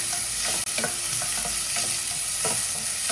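Onion and curry leaves sauté in hot oil in a cooker, a steady close sizzle with a few light stirring scrapes and no talking.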